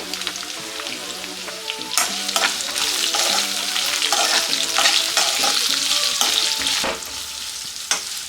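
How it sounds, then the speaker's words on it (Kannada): Chopped onions and curry leaves hiss and crackle in a hot pan, a loud continuous sizzle broken by repeated scraping stirs of a spatula. "ಒಂದು 30 ಸೆಕೆಂಡ್ ಅಷ್ಟು ಫ್ರೈ ಮಾಡ್ಕೊಳ್ಳಿ ಸಾಕು."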